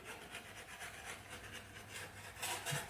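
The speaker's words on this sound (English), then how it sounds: "we're going to bring it back nice and flat using our joint knife here. Just simply scrape it through." A joint knife scrapes soft filler across a door in short repeated strokes, quiet and close, ending with a slightly louder pass.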